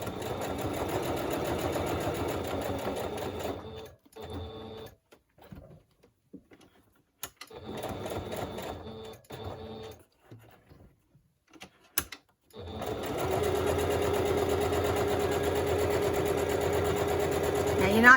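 A sewing machine runs in steady, whirring stitching bursts that stop and restart with quiet pauses between, close up, while a person talks during the pauses.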